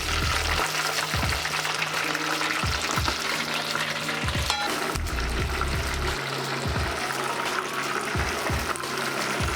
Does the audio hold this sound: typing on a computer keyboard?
no